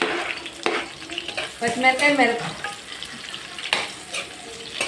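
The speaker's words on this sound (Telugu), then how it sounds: "కడాయిలో కొద్దిగా ఆయిల్ వేసి ఆయిల్ హీట్ ఎక్కిన తర్వాత కట్ చేసి పెట్టుకున్న ఆనియన్ ఉంటుంది కదండి, ఆనియన్ పచ్చిమిరకాయ వేసేయాలండి" Onions and green chillies frying in hot oil in a kadai give a close, crackling sizzle. Stirring and scraping rise and fall in short bursts, and there is no clear speech.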